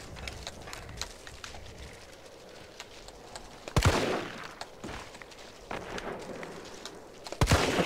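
Gunfire in the video game Resident Evil 3 Remake, with two sharp, loud shots a few seconds apart over busy background game sound and scattered small clicks.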